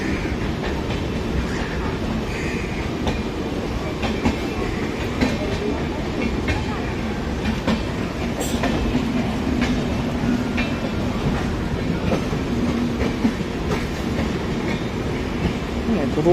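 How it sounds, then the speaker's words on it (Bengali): The Rajdhani Express passes through Sealdah station in a loud, continuous rumble with rhythmic wheel clatter and scattered metallic clicks, heard up close throughout. "এই রাজধানী এক্সপ্রেস"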